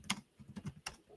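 Several quick keystrokes tapped out on a computer keyboard, a short burst of crisp clicks near and alone, with a brief pause before a final sharper tap.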